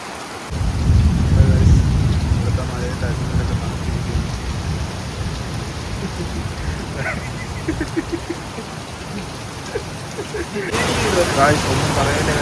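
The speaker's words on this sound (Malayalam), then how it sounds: "എന്തായാലും ഭയങ്കര മഴയാണ്" Heavy rain pours steadily with deep rumbling thunder near a Greenfield cricket stadium in Kerala, a dense continuous roar that swells again toward the end, with a faint voice briefly audible.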